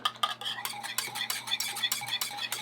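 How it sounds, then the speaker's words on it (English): Melting chocolate stirred in a pot for homemade hot chocolate, a spoon scraping and clinking against the pan in quick repeated strokes, close and fairly quiet, with no talking. "So just stir for a minute. Make sure all the chocolate is nice and melted."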